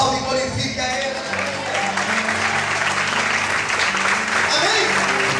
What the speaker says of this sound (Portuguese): Aplaude e glorifique a Ele.